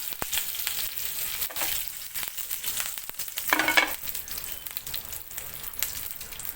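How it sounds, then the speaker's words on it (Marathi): Cumin seeds dropped into hot oil in a pan for a cauliflower chutney, crackling and sizzling in close, uneven bursts with a brief louder spurt midway and no talking. "तेल छान गरम झालं की याच्यामध्ये टाकणार आहे मी जिरा"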